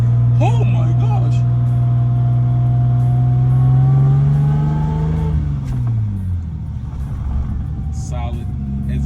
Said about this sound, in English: Bro, I'm going to rev it to the moon because I can't feel the clutch pedal with these shoes.